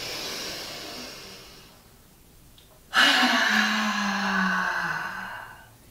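A yoga practitioner takes a slow hissing breath, then gives one forceful open-mouthed "ha" exhalation that trails off into a long airy sigh, close and clear.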